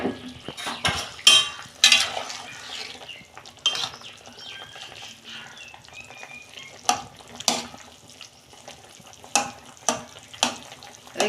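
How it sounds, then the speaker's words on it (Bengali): A metal lid comes off a pot of Bengali fish curry cooking with mixed vegetables in a home kitchen, with a scatter of loud, close clanks and clatters of metal on metal between quieter stretches. "দেখুন বন্ধুরা, ঢাকনা খুলছি"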